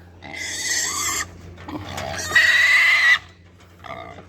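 Pigs on a farm being sold, loud squeals and grunts in two long harsh bursts with a shorter cry at the end, close by and without speech.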